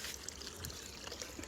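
Clean water is poured from a clay pot for washing hands, giving a faint, steady splashing trickle throughout with no voices.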